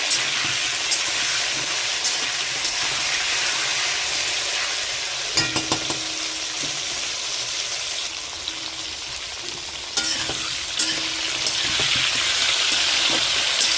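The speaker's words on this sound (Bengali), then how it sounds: "আর 2-3 মিনিট আমি নাড়া দেবো।" Cauliflower and potato pieces fry in a pan, sizzling and hissing loudly and steadily up close, with occasional scrapes of a stirring utensil before mung dal goes in.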